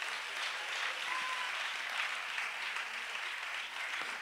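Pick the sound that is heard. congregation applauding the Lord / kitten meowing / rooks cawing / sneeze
congregation applauding the Lord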